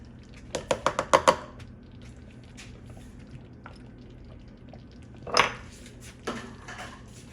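A spoon clinks rapidly against a bowl several times while Greek yogurt is stirred into cheddar mac and cheese, followed by a quieter pause and another metallic scrape later.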